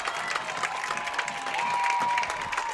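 A crowd at a Jersey Shore Bulldogs high school football game at Selinsgrove gives continuous applause and cheers from the stands, with a sustained whistle-like tone running through the steady clapping.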